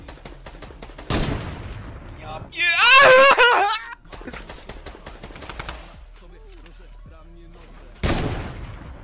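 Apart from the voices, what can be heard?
gunfire in a video game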